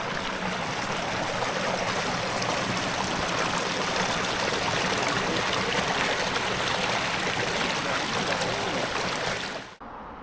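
A stream flows beside a hiking path in the Peak District, a steady, full rushing and gurgling of water heard close up for about ten seconds before cutting off abruptly.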